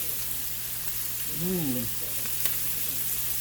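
Ramen noodles sizzling and frying in a hot pan with shrimp and vegetables, a steady close crackle that runs throughout, with a brief tonal squeak partway through.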